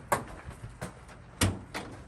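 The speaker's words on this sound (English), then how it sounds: "We're going to need to pop this door open." Working on a 2005 Mercedes Sprinter van with a P0299 code and stalling fault, its door is opened: a series of soft metallic clunks and latch clicks, fairly quiet and close, spaced irregularly.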